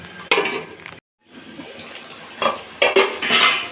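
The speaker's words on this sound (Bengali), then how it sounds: "এবার ঢাকা দিয়ে আর 2-3 মিনিট আমি ফুটিয়ে নেব।" A lid is set down on a pot of simmering Bengali-style bata fish curry, giving a few sharp metallic clanks and clatters close by. A brief gap of near silence separates them, with faint kitchen noise underneath.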